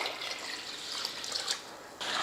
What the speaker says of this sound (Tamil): இப்போ தண்ணி ஊற்றி ஊற வச்சிடலாம்